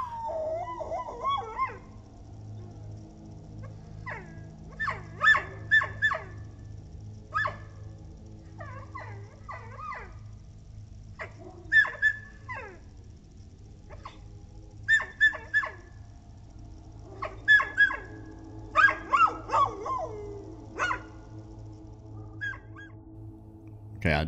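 A dog outside a house at night barks in scattered bursts, some single and some in quick clusters, moderately distant against a steady low hum.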